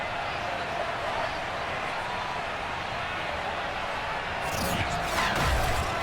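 A large stadium crowd at FedEx Field in the Madden 23 football game, a steady broad roar building into a louder surge near the end, with a commentator's voice over it.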